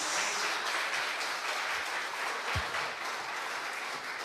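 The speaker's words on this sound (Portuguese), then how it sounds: "aplaudam ao Senhor Jesus" Church congregation clapping and applauding together, a steady dense wash of claps sustained throughout at moderate distance, no voices standing out.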